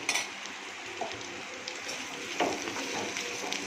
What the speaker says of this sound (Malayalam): ചെറിയ ഉള്ളി വലിയ ഉള്ളി ഇത് രണ്ടും കൂടെ നല്ലപോലെ വാട്ടണം